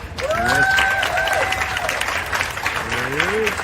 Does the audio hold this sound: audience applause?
yes